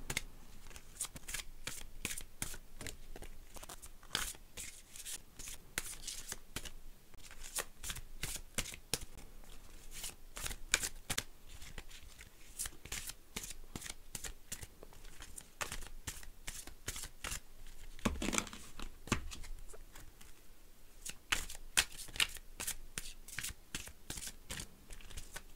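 Tarot cards being shuffled by hand, a long run of crisp riffling and flicking bursts in a quick uneven rhythm, close and fairly soft, with no talking.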